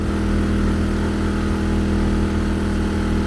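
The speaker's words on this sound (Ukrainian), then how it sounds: "генератор ковбасить вовсю" A Dnipro-M petrol generator running steadily, a loud, even engine drone with a low throbbing hum throughout, close by and with no voices.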